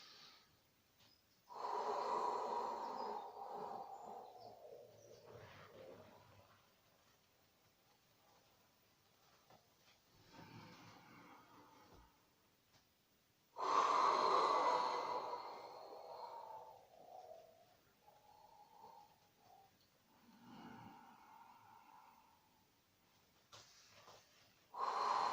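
Slow, audible breaths during a Pilates exercise: long inhales and exhales come in separate waves with quiet gaps between them, close and breathy, and no talk.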